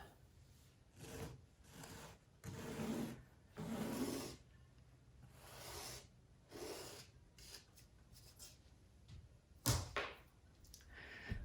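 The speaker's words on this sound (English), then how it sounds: "I'm going to measure down 1 more inch and draw another line" A pen or marker drawing lines on backpack fabric, a series of short rasping rubbing strokes with pauses between, quiet and close, one sharper scrape near the end.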